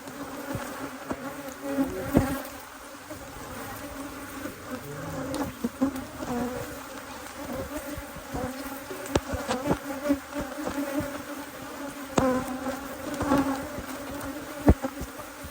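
Honey bees buzz around an open beehive during an inspection, a dense, continuous close drone with scattered sharp clicks and knocks from handling the hive.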